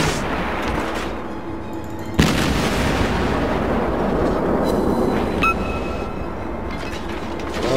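Naval gunfire and explosions in the World of Warships video game: a dense, continuous roar of rumbling blasts, with a sharp, heavier boom cutting in partway through and a ringing tone near the end.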